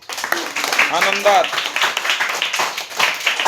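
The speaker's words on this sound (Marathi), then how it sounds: "हसून टाळ्या वाजवा." Fifth-grade schoolchildren at a village Zilla Parishad primary school clap together in a classroom, giving a quick, rhythmic patter of many hands close by while a voice speaks over the start.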